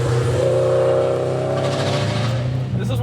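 A 400HP JDM Subaru Impreza STI Type R Version III with an open wastegate and short shifter holds a loud, close, steady engine drone with a fluttering edge, easing slightly near the end.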